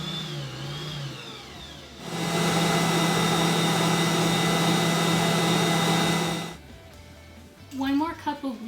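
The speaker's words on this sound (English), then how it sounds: "And then we're going to blend this together." An electric mixer blends whole wheat bread dough in a home kitchen, running as a loud, steady motor whir for about four seconds, with talk before it and after it.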